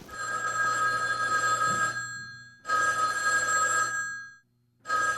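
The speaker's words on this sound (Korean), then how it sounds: "1950년 7월 1일 새벽 대전 형무소에 전화벨이 울립니다" A telephone bell rings at dawn in a prison in Daejeon, sounding in two long bursts of electric ringing separated by a pause, with a third starting at the end.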